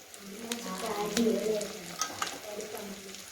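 Chicken pieces frying in a pan of hot oil, a continuous close sizzle and crackle with occasional sharper pops as the pieces are stirred.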